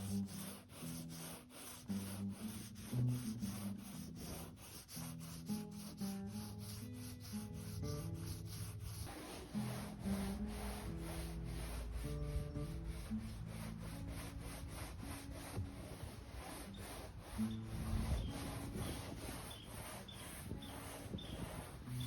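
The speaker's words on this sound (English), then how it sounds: "Anywhere the paint still looks pretty good, I'm not going to spend a long time sanding." Long stretch of steady back-and-forth hand sanding on a boat's old painted surface, just roughing it up to dull the finish; a continuous rhythmic scratching rub, close and fairly loud, with no talk.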